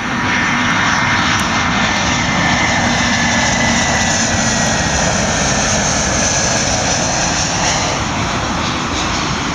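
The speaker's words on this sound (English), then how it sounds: "there's a plane coming too" Airplane passing overhead near Heathrow airport, a loud, steady roar of engines filling the whole stretch, close and continuous with no talking.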